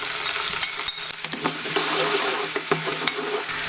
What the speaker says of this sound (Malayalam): ഒന്ന് വാട്ടിയെടുക്കാം, പച്ചമുളകും ഇഞ്ചിയും.